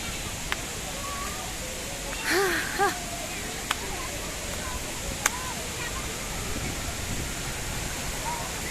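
Waterfall water at Jalbira rushes in a steady broadband wash throughout. A brief voice rises in the middle, with a few sharp clicks scattered on top.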